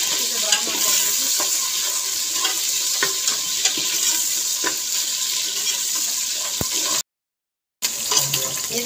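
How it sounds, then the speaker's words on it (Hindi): Garlic ginger paste frying in a pan ahead of onions for an aloo shimla mirch dish, a steady loud sizzle with occasional stirring clicks throughout, briefly cut to silence near the end. "इसको डाल के तो कम से कम 2 मिनट इसको फ्राई करेंगे ताकि अच्छे से ब्राउन हो जाएगी"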